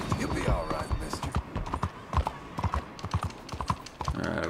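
Horse hooves clip-clop on a road in the video game Red Dead Redemption 2, a loud irregular clatter of steps close by, with someone talking over the walking hoofbeats.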